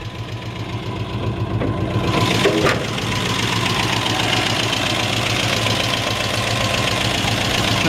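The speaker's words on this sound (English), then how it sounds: "It sounds like it's got a little bit of an exhaust leak." A 1968 Jeep Kaiser Wagoneer engine idles steadily and loudly, its rumble carrying a ticking, puffing rasp from an exhaust leak, with no voices.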